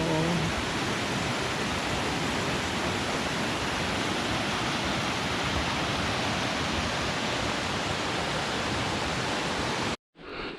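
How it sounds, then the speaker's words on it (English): A waterfall on the Iceberg Lake Trail in Glacier National Park gives a steady, loud, broadband rush of falling water. It stays unbroken for about ten seconds, then cuts off abruptly. "The waterfall."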